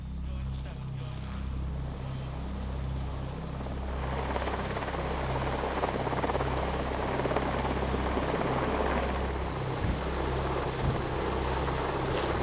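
Steady RAF rescue helicopter rotor thump and engine roar fills the whole clip, loud and continuous, with wind noise building partway through.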